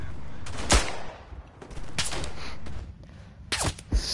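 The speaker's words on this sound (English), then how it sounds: "those gunshots are being directed at me." Gunfire in the World War I shooter Verdun cracks out in several loud, sharp shots and short bursts, separated by brief stretches of lower battlefield rumble.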